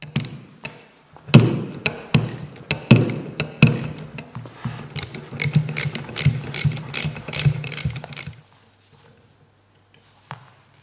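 A ratchet loosening the retaining screw of a motorcycle fork leg, loud rapid clicking in bursts of pawl ticks close by, then stopping and leaving near silence with a single late tap.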